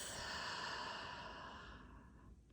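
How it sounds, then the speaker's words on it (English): One long, deep breath heard up close and softly, a steady airy rush that fades away over a couple of seconds, with no talking. "take a big breath in through your nose and a deep breath out of your mouth"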